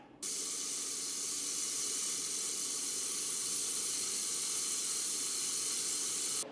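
An XLaserLab X1 Pro laser welder lays a bead with wire feed, giving a steady, even hiss that starts abruptly, holds for about six seconds and cuts off, with no voices.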